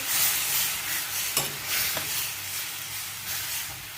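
A pot of drumstick-leaf curry with green chillies bubbles on the stove, a soft simmering hiss with a few gentle stirring knocks, quiet and close.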